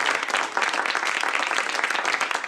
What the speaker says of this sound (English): Come on. Applause,